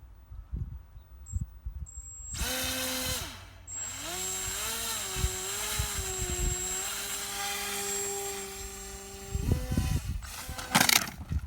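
An Easy Edge RC model airplane with an electric propeller motor, hand-launched into flight: a steady, buzzing motor whine rises and holds for about seven seconds, then breaks into clattering bursts near the end.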